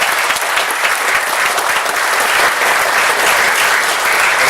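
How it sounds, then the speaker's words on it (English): Loud, sustained applause from a conference audience at a public defenders' justice summit, dense and even clapping throughout with no talk over it. "Let's have a round of applause for our sponsors today."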